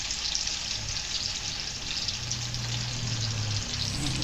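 Tofu frying in hot cooking oil, giving a dense, continuous crackling sizzle that stays loud and close throughout with a low hum underneath and no talking.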